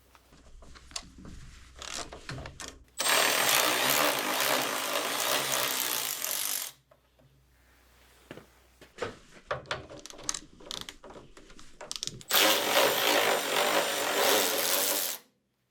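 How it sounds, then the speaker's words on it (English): Ratchet clicking as radiator bolts come off a Lincoln Ranger 300 DLX welder, heard in two long sustained bursts of rapid close clicks separated by quieter handling knocks and clanks. "let's go ahead and remove these two bolts on the radiator"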